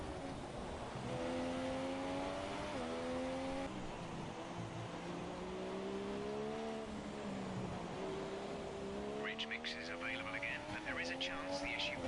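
Formula 1 race car engines in the F1 2017 racing game, as a car rounds the final corners sideways to win a Grand Prix: a steady high engine whine rises and falls through gear changes, with sharp revving bursts near the end.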